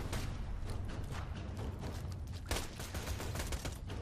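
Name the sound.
gunfire in a video game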